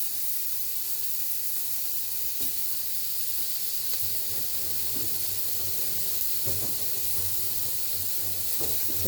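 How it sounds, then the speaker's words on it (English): Fatty pork frying in a pot with onions for Goan pork pulao, a steady loud hiss of sizzling fat throughout with occasional faint clinks, close and continuous. "so now we will add our fatty pork so that we get some"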